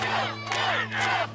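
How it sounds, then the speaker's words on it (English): An angry crowd shouts outside the Westmead Coroner's Court, loud overlapping yells rising in two surges over a steady low hum. "There are also angry crowds outside the Westmead Coroner's Court 2 months later"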